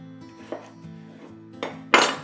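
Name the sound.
knife cutting potatoes into chunks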